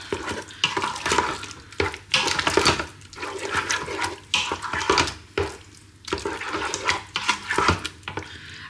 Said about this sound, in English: I'm just going to add a can of tomatoes and give it a quick stir